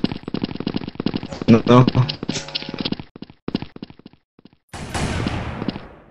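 Gunshots ring out in a video game, a few sharp cracks and bursts mixed in with someone talking over them at close range.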